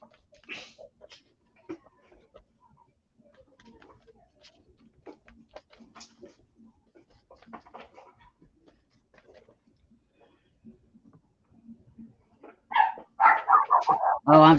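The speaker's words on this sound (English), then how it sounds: "Oh, I'm sorry about the dogs, you guys." Several dogs bark in short, loud bursts close by near the end, after a stretch of quiet indoor shuffling and faint movement.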